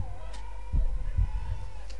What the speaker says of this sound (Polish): Charakterystycznie podkreśla to bicie serca.